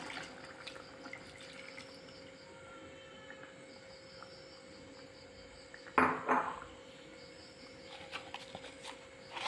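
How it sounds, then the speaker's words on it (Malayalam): First coconut milk is poured into a thickened Malayalam murrel fish curry on a medium flame, giving a brief, fairly close splash and clatter midway over a steady kitchen hum, with no talking. "ഇനി നമുക്ക് ഒന്നാം പാൽ ചേർത്ത് കൊടുക്കാം"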